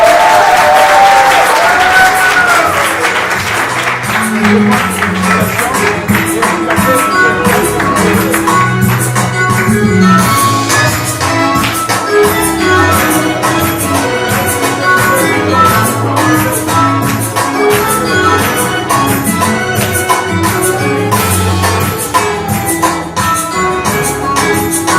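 Wedding guests at a civil ceremony in a town hall applaud the newlyweds, a dense, sustained round of clapping with some crowd noise and cheering that holds loud and steady throughout.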